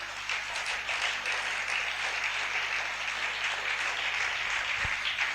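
A church congregation applauds the Lord with sustained, dense clapping from many hands. The applause is steady and continuous throughout, with no talking over it.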